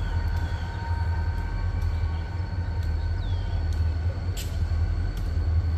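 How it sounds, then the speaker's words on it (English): Reading & Northern SD40-2 diesel locomotives haul a passenger consist past at close range, a steady loud low diesel rumble with wheel and rail noise and faint high squeals throughout. "There's gonna be a choo-choo there"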